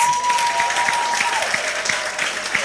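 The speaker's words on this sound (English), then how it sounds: "let us give the young men another round of applause" An audience at a graduation ceremony for an upskilling academy gives the young male graduates a round of applause, a continuous clatter of many hands with a faint steady tone beneath it early on.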